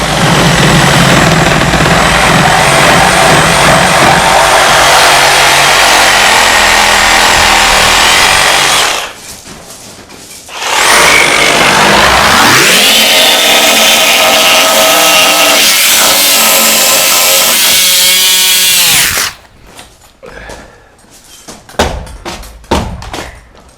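A Sawzall reciprocating saw with an old, worn blade whose tip is burnt off roars loudly through a cut, stops briefly around the middle, then buzzes hard again before cutting out, leaving faint rattles and clunks.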